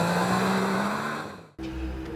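A 2017 Yamaha YXZ1000R SS SE side-by-side launches hard, its engine note climbing steadily in a loud, close roar, then cutting out briefly before picking back up at a lower pitch for the next gear.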